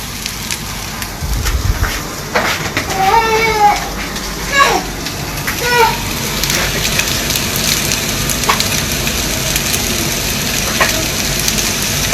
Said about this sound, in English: So I will leave this for like just little over less than 2 minutes to sear it off properly.